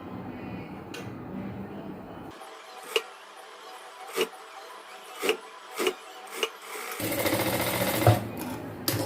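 A sewing machine stitches a boat neck blouse in short bursts, its rapid whirring rattle starting and stopping between several soft knocks, close and fairly loud.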